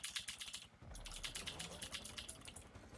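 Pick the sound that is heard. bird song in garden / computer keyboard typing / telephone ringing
computer keyboard typing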